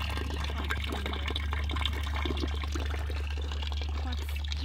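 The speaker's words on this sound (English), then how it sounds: "this is a fountain right here. It is functioning." Water trickles and splashes steadily from a small homemade fountain driven by a fish tank pump, a continuous close burble with a low pump hum beneath it.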